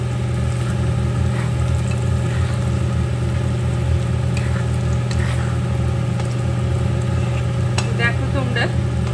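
Khichuri sizzles steadily while being stirred in a pan, a constant close frying hiss with a low steady hum underneath and occasional scraping clinks of the utensil against the pan.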